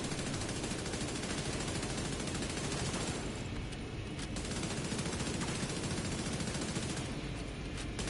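Dense, continuous rapid gunfire from a battle in The Division 2, with steady automatic bursts filling the clip at a constant level and no clear pauses.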